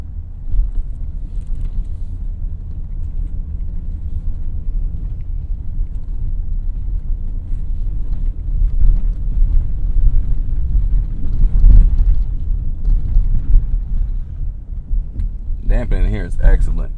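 A 2025 Toyota Sienna Platinum Hybrid drives over a very rough road, with a continuous low cabin rumble and occasional thuds from bumps. A person talks over the noise throughout.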